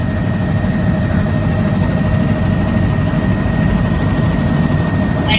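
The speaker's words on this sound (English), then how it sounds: "I'm in a helicopter." Steady, loud helicopter engine and rotor drone heard from inside the cabin, a continuous low rumble with a constant whine running through the whole stretch, no pauses.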